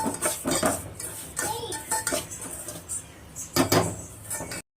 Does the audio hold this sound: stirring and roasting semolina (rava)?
yes